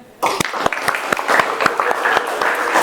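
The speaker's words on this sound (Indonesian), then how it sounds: "tepuk tangan ya" Classroom students clap at the teacher's request, a short round that starts abruptly after a brief silence, with a few sharp louder claps standing out from the steady patter.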